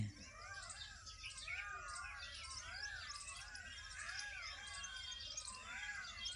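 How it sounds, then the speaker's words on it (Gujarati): Outdoors in the morning, a bird repeats a rhythmic chirping call over and over at a steady pace, faint and at middle distance, above a low background rumble. "જો બહાર પક્ષીઓના મોરના અવાજ આવે."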